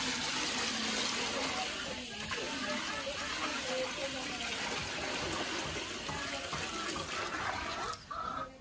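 Water is poured into a cooking pot while quail mandi is cooked at home, a close, steady gushing pour that runs almost the whole time before breaking off near the end.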